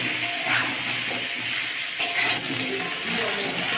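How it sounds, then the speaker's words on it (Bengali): Potatoes frying in oil with a pinch of turmeric, a steady soft sizzle with faint stirring scrapes, close and alone without speech. "দিয়ে এটা ভালো করে ভেজে নিতে হবে আলুটা।"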